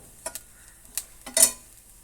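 Chilli, turmeric and coriander powders fry with roasted coconut for kaipakka theeyal, heard as a few sharp scraping stirs and faint sizzle, with a louder scrape near the end.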